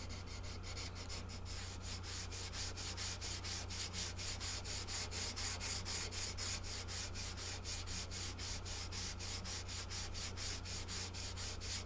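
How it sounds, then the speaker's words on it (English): Continuous dry sanding of a 1958 Martin guitar headstock with 600 grit sandpaper, a steady close scratchy rubbing in quick regular back-and-forth strokes over a low constant hum. "then I hit it with the 600 grit dry sandpaper"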